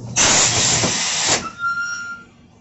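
A steam iron pressing a school pinafore lets out one loud close burst of hissing steam lasting just over a second, then cuts off to a quiet room with faint tones.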